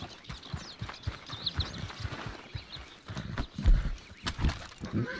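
Red Dead Online horse sounds: uneven hoof clops and snorting breaths over several seconds, with a brief whinny, close and moderately loud, no speech.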